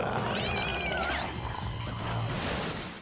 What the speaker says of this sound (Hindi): चाट वाली बिल्ली आ गई।